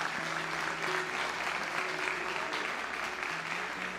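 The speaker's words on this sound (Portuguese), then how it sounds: "Vamos aplaudir, mulheres." Audience applause at a church sermon, steady broadband clapping filling the room for the full stretch, with a faint sustained tone underneath and no speech over it.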